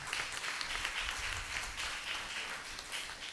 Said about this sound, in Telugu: గట్టిగా క్లాప్ చేస్తాం మనకి